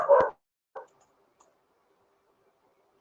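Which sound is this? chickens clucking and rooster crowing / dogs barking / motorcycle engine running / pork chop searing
dogs barking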